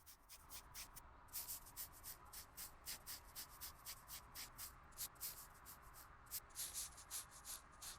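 Steady rhythmic sanding and rubbing strokes smoothing body putty on a car panel in the Car Dealer Simulator game, a continuous scratchy swishing with repeated bright pulses, fairly faint and alone with no talking.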